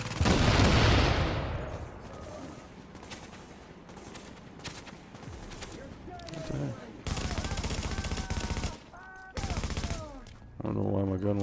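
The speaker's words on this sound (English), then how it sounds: "I'm getting shot here." Bursts of gunfire strike the player in The Division, dense rapid volleys that come and go in loud clusters over a busy in-game soundscape, with a loud opening barrage and brief pauses between later bursts.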